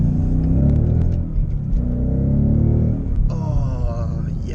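A car accelerates hard as its back end slides out, the engine giving a loud, close rumble that swells and then shifts into a rising whine.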